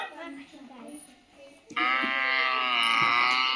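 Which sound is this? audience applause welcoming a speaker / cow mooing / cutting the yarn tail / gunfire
cow mooing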